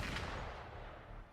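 Gunfire in the video game Wuthering Waves comes as a short, faint burst of blasting shots that fades over a second or so.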